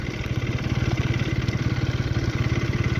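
A KTM Duke 250 gen 3 motorcycle idles after a cold start, its single-cylinder engine pulsing in a fast, steady, even rhythm up close, with no talk over it.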